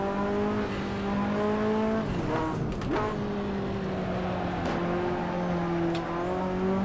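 A Ferrari F40 in the Assetto Corsa video game slides around a track, its engine droning steadily with pitch shifts as it revs and drops, and tires squealing through the slide.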